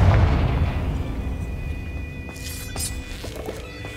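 Confringo spell explosion in the Hogwarts Legacy video game, a loud low boom at the start that rumbles and fades out over a few seconds, followed by faint crackling debris.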